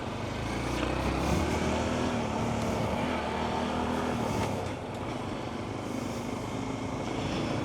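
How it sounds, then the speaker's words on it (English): Honda Trail 125 motorcycle ridden on Houston streets, its steady engine drone and wind rush continuous and close for several seconds, with a slight dip in level partway through. "this is a nice bike to ride"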